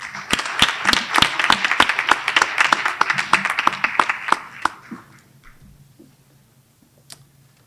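An audience at a Board of Education budget hearing applauds a group of students, with dense, loud clapping that carries on for several seconds, then tapers off into a quiet room with a final stray clap.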